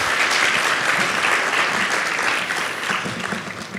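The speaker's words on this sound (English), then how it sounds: "I would like to give a good round of applause for everyone" A conference crowd applauds steadily at closing remarks, a dense patter of clapping hands that holds loud throughout before easing slightly near the end.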